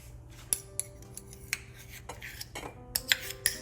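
Salmon ingredients being mixed in a dish with a utensil, giving sparse clinks and scrapes, a few sharp taps, and a busier clatter near the end.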